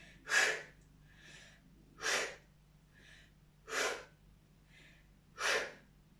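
Four strong, evenly spaced breaths during a seated workout, each a sharp forceful exhale followed by a fainter inhale, close and steady in rhythm.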